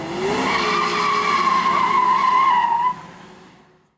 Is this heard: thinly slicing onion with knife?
no